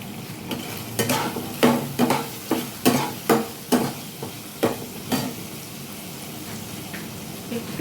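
Spoon scraping and stirring cumin, turmeric and ground spices in a hot pan, a series of sharp, close scrapes roughly every half second amid a soft sizzle, fading to a steady frying hiss toward the end.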